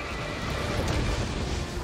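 A horse neighs in the video game Shadow of the Colossus: a loud whinny rises and fades over a dense, rumbling backdrop of game noise, with no talking.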